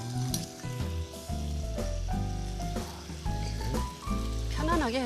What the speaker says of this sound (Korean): 양념이랑 같이 볶네요, 선생님.